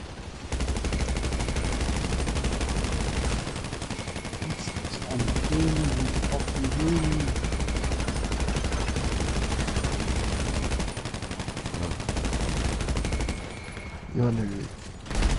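Sustained automatic gunfire from a GTA 5 Online match, dense rapid bursts running almost continuously with brief pauses, while players talk over it at times.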